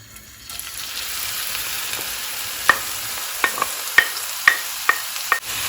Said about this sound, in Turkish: Şimdi soğanı böyle e, hafif yumuşayana kadar kavuracağız.